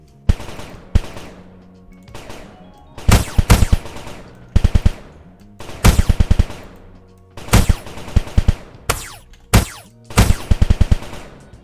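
Rapid bursts of gunfire from a multiplayer space video game, loud, close and punchy, come in short rattling volleys separated by brief pauses, with no talking.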